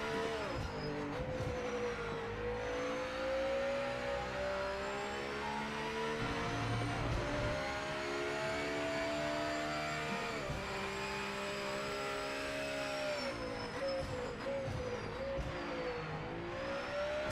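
A GT500 race car engine in the Project Motor Racing sim drones steadily, its pitch easing up and down as the car warms its tires. The sound is low in level and continuous throughout.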